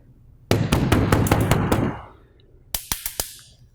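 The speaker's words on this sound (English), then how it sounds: "the air cleaner will make some snapping noises as those large particles short out the cells" Electro-Air electronic air cleaner cells snapping as loosened dust particles short them out: a quick burst of sharp crackling snaps over a low hum, then a pause and four more distinct, loud snaps.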